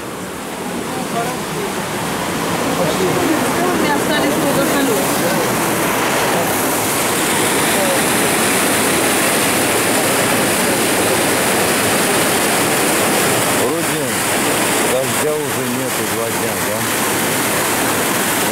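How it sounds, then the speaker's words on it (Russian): A river in Yalta rushes in flood after a downpour, making a loud, continuous broadband roar that holds steady throughout, close to the listener. "Мы сейчас с этой стороны посмотрим на реку."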